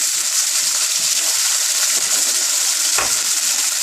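Chopped onion sizzles loudly in a tablespoon of hot oil over high heat, a dense steady frying hiss with a couple of brief stirring scrapes, close and without speech.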